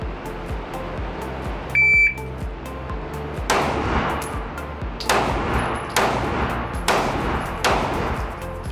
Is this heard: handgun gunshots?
yes